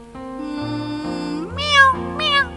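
A person imitates a cat with a pair of drawn-out meows, the second rising sharply in pitch. The voice is close and loud with no other sound.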